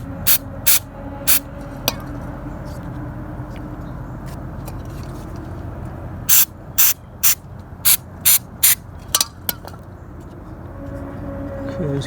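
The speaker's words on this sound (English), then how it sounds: "It says to spray about 10 to 15 bursts with the straw." An aerosol cleaner sprays in short, sharp hissing bursts into the engine of a 1.8 Toyota Corolla, about a dozen separate puffs in irregular rhythm over a low idling engine hum.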